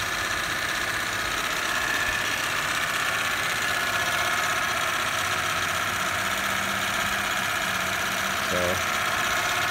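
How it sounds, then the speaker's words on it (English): A 2006 Toyota 4Runner Limited 4x4 with a 4.7L V8 idles steadily, close up, with a light rapid valve train ticking over the even engine drone; a voice speaks briefly. "my phone does pick up small engine and valve train noise, so it might sound more ticky than it would in person"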